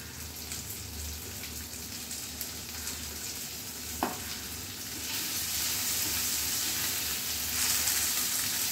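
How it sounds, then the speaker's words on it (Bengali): Potatoes frying on low heat with salt and turmeric, a steady close sizzle that swells louder toward the end, with a single brief knock of a spoon midway. "আলুটা প্রথমে এই মিনিট 3 মতো সময় নিয়ে ভেজে নেব।"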